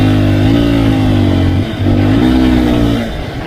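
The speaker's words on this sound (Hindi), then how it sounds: "वो बाइक कुछ इस तरह चलाते हैं। Have a look." A motorcycle ridden past and revved hard, its engine note climbing in two loud, close surges with a brief dip between them, steady and unbroken with no voices.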